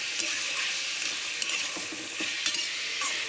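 Sliced red and yellow bell peppers being stirred into frying chicken and onion, with a steady close sizzle and soft scrapes and clicks of a utensil against the pan.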